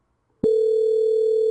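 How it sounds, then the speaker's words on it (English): A steady, loud telephone line tone starts abruptly after a short silence once the extension 7777 has been dialed, and it holds unbroken to the end. "This time I'm going to dial 7777 again."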